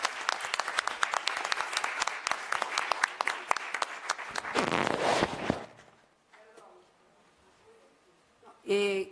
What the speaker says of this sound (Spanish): Un aplauso para los panelistas y las panelistas.